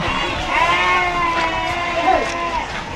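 Sheep bleat at a large sheep market in Karnataka, a few wavering nearby calls rising over the constant crowd chatter and market bustle.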